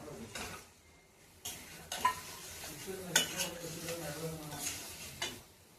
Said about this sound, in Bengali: মশলা কষানো হয়ে গেছে, এখন আমি এই সয়াবিন চাপগুলো দিয়ে দেবো।